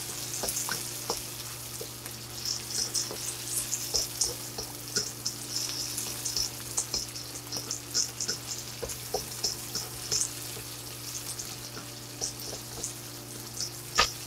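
Dried red chilies crackle and sizzle in hot oil in a frying pan. The loud, steady spitting is broken by frequent small pops, with a low hum underneath. No one speaks.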